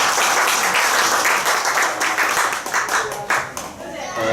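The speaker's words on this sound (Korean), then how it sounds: "다 같이 박수 한번 치고 예배 시작하도록" A church congregation claps together at the start of a Sunday worship service, dense steady clapping filling the room throughout, slightly thinning toward the end.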